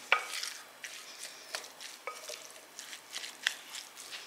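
Rice salad with olive oil and salt stirred in a bowl, soft repeated scraping and wet stirring strokes at an irregular rhythm, close and fairly quiet, with no talking.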